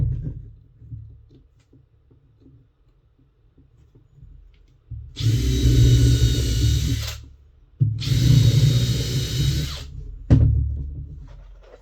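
A power drill drives longer screws into the floor of a Sprinter van in two long, loud whirring bursts of about two seconds each, with a short third burst after them, following a stretch of quiet handling noise.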